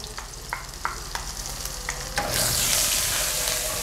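Onions, ginger and garlic sizzle in about three tablespoons of hot oil, a steady close frying hiss punctuated by regular scraping stirs, swelling into a louder, fuller sizzle partway through.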